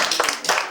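Brief burst of audience clapping at a book launch, a few scattered hand claps rising and falling over under a second.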